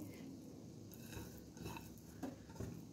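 Fried eggs are broken up in a pan for egg fried rice, with soft utensil scrapes and light metallic taps against cookware, quiet and irregular, building slightly toward the end.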